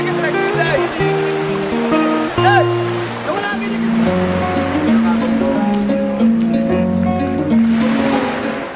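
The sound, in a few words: ocean waves on beach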